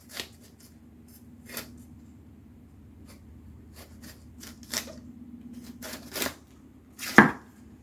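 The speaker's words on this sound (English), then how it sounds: "So I'm going to see if I can cut some of these little black areas out." A knife cuts small black spots out of a head of cabbage being prepared for canned sauerkraut. Crisp cuts and clicks come one at a time with pauses between them, close by against a quiet room, the last cut the loudest.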